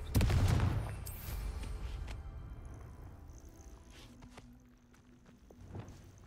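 Confringo blast spell cast in Hogwarts Legacy, a loud booming explosive burst at the start that rumbles and fades over several seconds, followed by faint scattered game effects and a few distant clicks.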